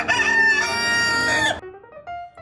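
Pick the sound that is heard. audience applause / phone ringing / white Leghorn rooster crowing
white Leghorn rooster crowing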